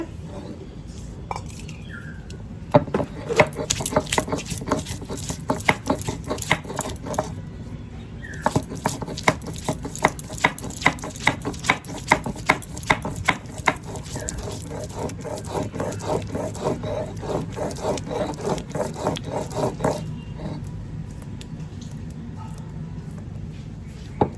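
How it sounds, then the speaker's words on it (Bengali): Ginger and garlic ground on a shil pata stone slab, a rhythmic series of scraping, knocking strokes that continues for a long stretch with brief pauses, close and fairly loud. "দেখো শিলে পাটায় বেটে নিয়ে চলে এলাম"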